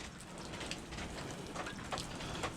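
Steady patter of rain falling on a surface, fairly quiet and continuous, with scattered drops standing out.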